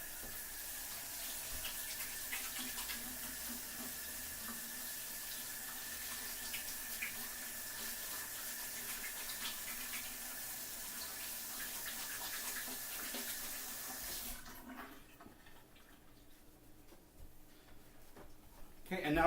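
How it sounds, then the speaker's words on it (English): A kitchen tap runs while hands are rinsed during hamburger preparation: a steady, close hiss of flowing water continues for about fourteen seconds, then cuts off, leaving a quieter room. "I'm just gonna rinse my hands again real quick."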